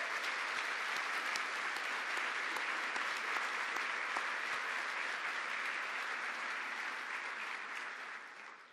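A large crowd at the Ignite High Point closing event gives High Point University a long, loud, dense round of applause that holds steady for several seconds and then begins to taper at the end.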